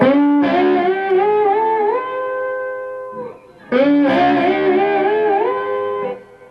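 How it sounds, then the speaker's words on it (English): Electric guitar rings out with sustained, unmuted notes and lingering overtones, two long phrases separated by a brief pause, loud and close. "if I was playing that without dampening the strings, it would sound like this."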